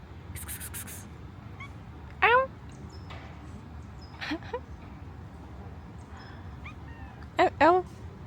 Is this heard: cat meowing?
yes